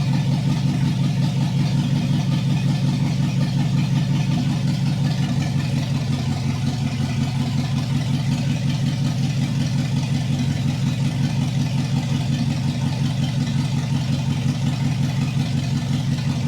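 Car engine with open header exhaust idling steadily in a garage, a loud continuous low rumble throughout with no talking.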